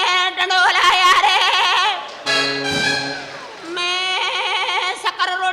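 A voice imitates a Sindh goat bleating loudly and close up, with long wavering nasal bleats broken by a short pause, in a comic drama scene.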